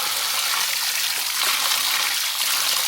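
Clear mountain water flowing near the old entrance of a village, a loud, steady rushing stream with a close, even hiss and no voices over it.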